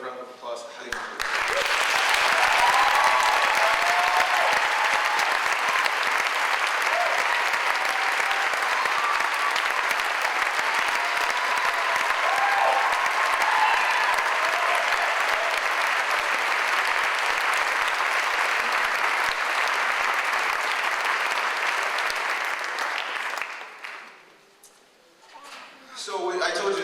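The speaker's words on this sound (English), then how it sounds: "Let's welcome and give a round of applause to Halima" Sustained audience applause at a 2012 MLK convocation at Augsburg welcoming an honoree, a broad steady roar of clapping for more than twenty seconds that fades out near the end.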